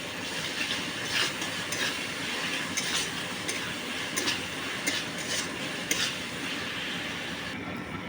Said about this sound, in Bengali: পেঁয়াজ আমার লাল লাল করে ভাজা হয়ে গেছে।